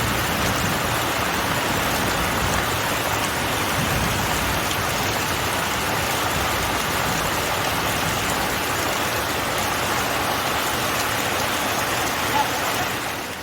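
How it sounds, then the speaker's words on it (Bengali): Heavy rain pours down in a steady, dense hiss, loud and unbroken throughout, with no other sounds standing out. "মুষলধারে বৃষ্টি হচ্ছে"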